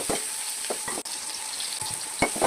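Sliced large onions with ginger-garlic paste sizzle and fry in hot oil in a pan for a hotel-style poori potato curry, with a steady close-up crackle and occasional stirring scrapes.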